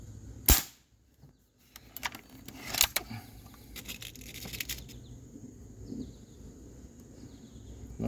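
A Springfield Armory M1A .22 caliber spring-piston air rifle fires one sharp, loud shot, followed by lighter clicks and metallic handling noises, with a second fainter snap a couple of seconds later.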